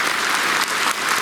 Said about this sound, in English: it calls for a round of applause